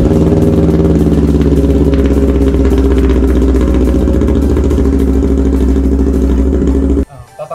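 A CLX 700 motorcycle engine idles while warming up before an oil change, giving a loud, close, steady rumbling chug for about seven seconds before shutting off.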